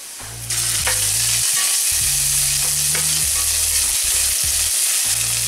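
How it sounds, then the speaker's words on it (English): Sliced garlic roasting in a hot pan for chicken tikka masala, a steady loud sizzle with scattered scrapes and clicks of a spoon stirring, alone without any voices. "next I'm going to put 3 cloves of sliced garlic and keep stirring. Let it roast"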